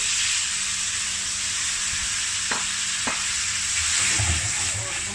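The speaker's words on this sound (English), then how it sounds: "We have to saute first." Cumin and red chili powder sizzle steadily in a hot pan for Nepali momo chutney, with a constant frying hiss, a couple of sharp utensil clicks and some stirring scrapes near the end.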